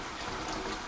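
Tap water runs steadily into a pot before clams and crabs are cooked, a broad even rush with no voices over it.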